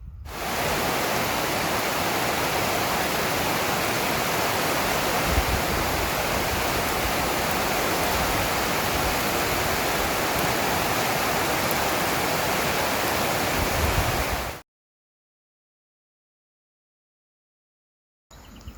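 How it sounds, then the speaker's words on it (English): Rain pours steadily onto a garden in a dense, unbroken hiss for about fourteen seconds, then cuts abruptly to silence. "And here comes the rain."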